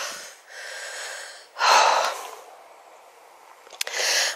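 Heavy, laboured breaths of a hiker climbing a hillside path in the Quantocks near Holford Green, a few loud close puffs and gasps with quieter breathing between them and no talk.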